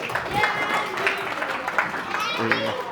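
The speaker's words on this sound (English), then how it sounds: "Bit of round of applause for Andy" A round of applause for a junior football coach at an under-12 club presentation night, a brief burst of clapping from a small crowd mixed with children's voices and chatter.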